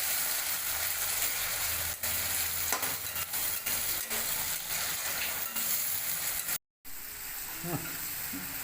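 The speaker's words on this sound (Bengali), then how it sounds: "এবার টমাটোরটাকে পেঁয়াজের সাথে ভালো করে ভেজে নেব" Tomatoes frying with onions in a pan for a chicken dish, a steady loud sizzle that runs throughout, with occasional stirring scrapes and a brief dropout near the end.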